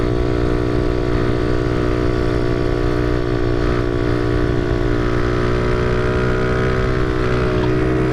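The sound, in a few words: motorcycle engine revving during wheelie with new Nibbi carb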